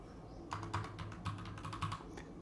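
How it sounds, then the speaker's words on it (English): Password being typed on a computer keyboard while flashing a thumb drive on an old Mac: a steady run of close, crisp key clicks in irregular quick rhythm, with no talk. "Type the password to do this."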